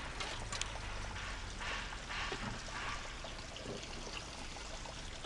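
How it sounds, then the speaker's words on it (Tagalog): Water running in a canal, a steady broadband rush with faint trickling that holds evenly throughout, quiet and slightly distant, with no talk over it. "Tubig kanal lang yan, di ba?"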